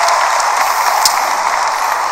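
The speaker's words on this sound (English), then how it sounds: "give yourself a round of applause for being here" An audience at the OnePlus 6 launch event in India claps in a dense, steady wash of applause that stays even for about two seconds.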